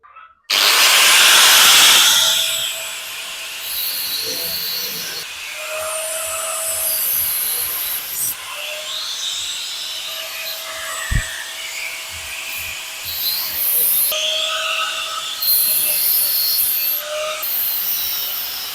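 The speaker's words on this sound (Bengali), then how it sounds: "এখন আমি মেশিন দিয়ে নেটগুলোকে কাটবো" A handheld power cutting tool grinds through the metal net of an air conditioner unit. It starts with a loud burst, then keeps up a continuous whining buzz with repeated short pitch rises as the blade bites, close and steady.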